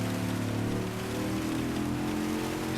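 Steady rain sound during a wet race in Gran Turismo 7, a continuous hiss of rainfall over a low, sustained car engine drone, loud and constant throughout with no talk.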